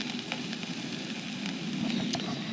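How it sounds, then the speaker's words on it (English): Food sizzles in a pan over a camp stove fire on a state park trail outing, a steady close hiss with faint crackles and pops throughout, no talking. "You can hear it sizzling."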